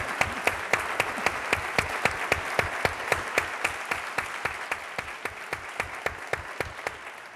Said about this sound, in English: I'm accepting this applause on behalf of the entire NewsHour team